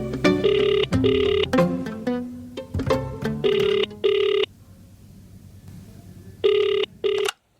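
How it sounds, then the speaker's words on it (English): Outgoing telephone call ringing in repeated double-burst rings, loud and close as heard through the handset, with pauses of line hiss between the pairs. "I was given a number to call and I rang up."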